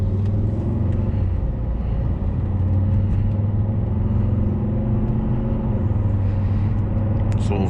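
A 2009 Volvo S80 D5 diesel with a cold engine cruises at gentle throttle, giving a steady low engine drone and road rumble heard from inside the cabin with no sharp revving.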